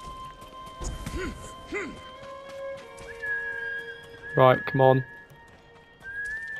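Horse in the video game Ghost of Tsushima whinnies twice near the start, then gives a louder, sharper whinny around the middle, over a steady ambient game hum, while someone talks briefly.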